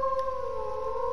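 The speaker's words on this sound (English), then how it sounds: "So now, if we just howl" Direwolves in ARK: Survival Evolved let out a sustained, steady howl together, a smooth held tone with a faint higher overtone, heard alone without talk.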